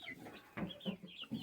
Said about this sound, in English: That one's a rooster.